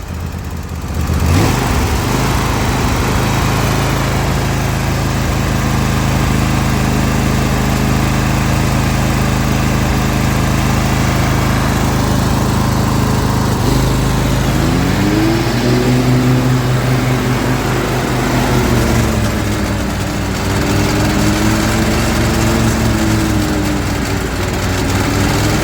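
Zero-turn lawn mower engine idling at low, a close steady rumble throughout, with the pitch sagging and wavering unevenly in the second half, no talking.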